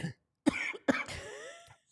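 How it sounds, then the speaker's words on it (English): Several close coughs from a man, sharp bursts in quick succession followed by a rough throat-clearing rasp. "I got to teach you how to cough quietly"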